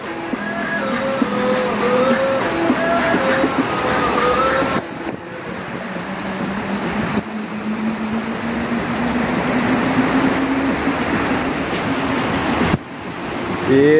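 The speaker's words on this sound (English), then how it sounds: "Freaking rainstorm, man. Freaking rainstorm." A heavy rainstorm gives a steady, loud, dense hiss that fills the whole stretch without pause, with a faint engine-like hum underneath and no talking.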